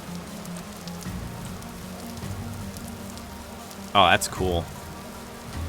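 Steady rain hisses in the survival sandbox game Vintage Story, a constant wash under a single voice speaking briefly, with a short louder burst of in-game sound near the end.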